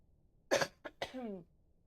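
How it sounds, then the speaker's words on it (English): A single sharp cough up close, then a short burst of speech. "Sorry, cough."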